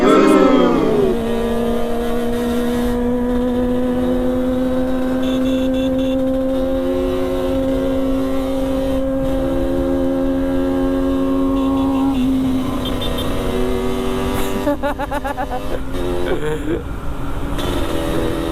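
A two-stroke motorcycle at a night meetup of two-stroke fans in Makassar is held at a steady, loud, high-revving drone for about ten seconds, then the pitch drops and wavers as the throttle changes.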